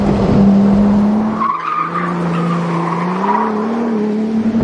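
A Ferrari 296 GTS twin-turbo V6 drones loud and close with a steady engine note that dips and rises, while the tyres squeal and scrub across the surface throughout.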